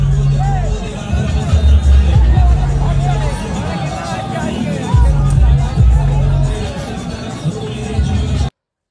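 A crowd of spectators has gathered on a field at a bike stunt show. It makes a loud, constant hubbub of overlapping voices and chatter, with a low rumble underneath.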